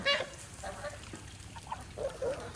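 White farm ducks on a small farm give a few scattered honking quacks, loudest at the start and again near the end, over faint background noise.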